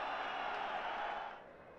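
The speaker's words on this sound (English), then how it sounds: "Oh yes, listen to the crowd." Crowd at a cricket stadium roaring after Babar Azam reaches his half century in a match against Sri Lanka, a dense sustained cheer that holds steady then eases slightly toward the end, with no clear voice above it.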